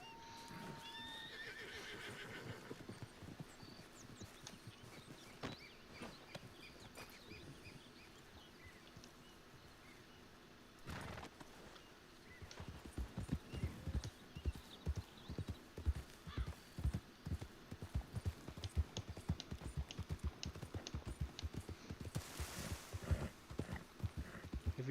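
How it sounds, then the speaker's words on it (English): Glitched horses in a video game, with a whinny early on and then steady, loud clip-clop hoofbeats that grow dense and rhythmic in the second half, over a faint ambient background. "I think these horses are glitched."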